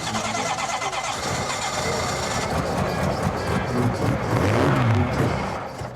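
Jaguar race car engine running loud and steady at close range, with a rough, continuous roar throughout and rising pitch sweeps toward the end.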